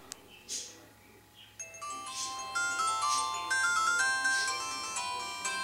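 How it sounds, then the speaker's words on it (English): A faint click, then a short electronic chime melody rises and sustains, the power off and on jingle of a K1 watch phone heard alone. "That's the power off and on sound, by the way."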